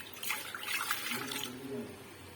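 About two glasses of water splash and pour into a cooking pot for chicken qeema with karela, a brief trickling gush that fades into quiet kitchen ambience.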